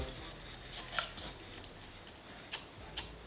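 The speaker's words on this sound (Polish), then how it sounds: "Drożdże mieszam z mlekiem i cukrem do całkowitego rozpuszczenia się drożdży." A spoon stirs crumbled yeast into milk with sugar in a bowl, making soft, faint scraping and light clinks in an irregular rhythm, with no talking.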